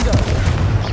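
Confringo explosive spell cast in Hogwarts Legacy, a short loud booming burst with crackling debris, close and dense, lasting about a second.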